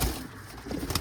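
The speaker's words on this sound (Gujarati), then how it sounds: "આપણી આગળ કબૂતર છે, આપણે તમને બતાડીએ." A pigeon gives a short, soft coo nearby in a quiet setting, with no voices.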